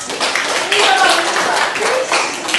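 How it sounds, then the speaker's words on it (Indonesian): A classroom group claps briefly for a student during a lesson, a short burst of moderately loud, scattered hand clapping lasting a couple of seconds. "Tepuk tangan untuk Mediva"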